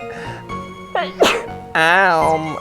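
A character in the video game Phoenix Wright: Trials and Tribulations lets out a single sharp sneeze, a brief explosive burst set among other voiced game sounds and tones.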